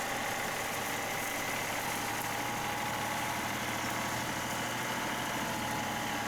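A John Deere 2038R compact tractor with a grapple attachment idles steadily, its engine giving a continuous, even drone close by with no talking over it.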